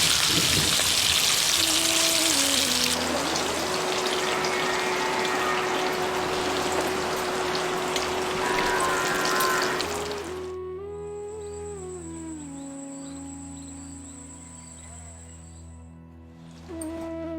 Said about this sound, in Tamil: கொஞ்சம் எண்ணெயில வேக வச்சிருந்த முட்டையோட கொஞ்சம் மஞ்சத்தூள், உப்பு சேர்த்து பொரிச்சு எடுத்துருவோம்